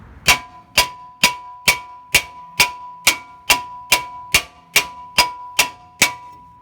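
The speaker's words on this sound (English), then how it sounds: "I don't know if this is like a 1-pound sledge or what you call this, but I'm going to go ahead and loosen it up with this." A small one-pound metal sledgehammer strikes a seized front brake rotor on a Mercedes-Benz ML320 in fourteen evenly spaced ringing clangs, each leaving a brief metallic ring, loud and close with no talking.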